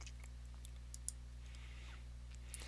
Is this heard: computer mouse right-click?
yes